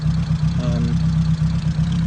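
A 1959 Ford Thames 300E van's engine idles steadily and close by, a low rhythmic putter that carries through with no voices.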